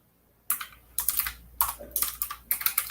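Keystrokes on a computer keyboard while entering Vim commands, arriving in short bursts of sharp clicks separated by brief pauses, close and clear with no talking.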